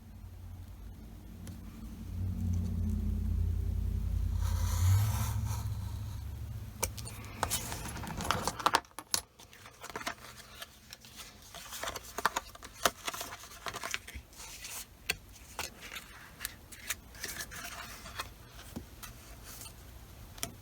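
A knife makes its final cut through material, close and fairly quiet: a low sustained scraping drag at the start, then a sharp snap and a scatter of small ticks and taps as the blade finishes and is set down.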